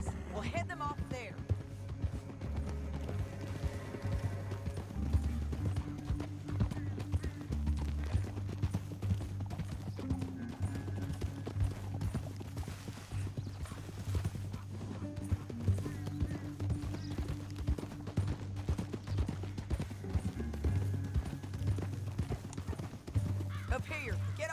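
Horse hooves gallop in a rapid, steady clip-clop rhythm in Red Dead Redemption 2, carrying on throughout beneath a background music score, with a whinny heard at points.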